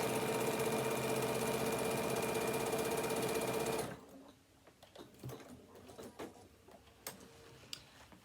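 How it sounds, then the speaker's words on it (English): A sewing machine stitches a velcro hook-and-loop strip in a fast, steady mechanical whir for about four seconds, then stops, leaving soft handling clicks and rustles. "So stitch down one side and then stitch down the other side."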